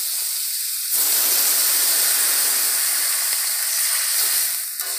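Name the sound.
water poured into hot pan of frying potatoes, sizzling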